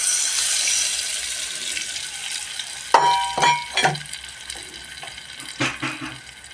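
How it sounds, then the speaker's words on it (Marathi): Water splashes into a cooking pot holding a mango and ghee tempering. The pour comes in a few short bursts with a clink of a vessel, over a faint hissing background. "परत हे पाणी घालणार."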